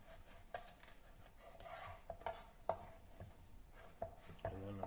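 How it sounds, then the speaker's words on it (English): A knife chops through a zucchini on a cutting board, trimming the ends and splitting it lengthwise, with a series of distinct close taps spaced irregularly, soft kitchen clatter in between. "Now I'm going to move on to the zucchini. Just cut the two ends off. I'm going to split it down the center."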